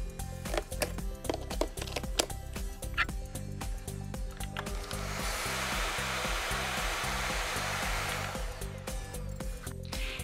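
A vacuum cleaner, fitted with a fresh dust bag, starts up midway with a steady whooshing motor roar after some clunking handling sounds, then runs continuously and fairly loud.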